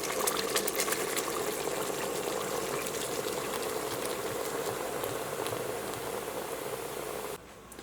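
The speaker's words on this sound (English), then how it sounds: "you're going to go in with your Guinness." Guinness stout pours into a pot of browning lamb for a stew, a loud, steady hissing, bubbling rush that fizzes close-up for several seconds before dropping abruptly quieter near the end, with no talking.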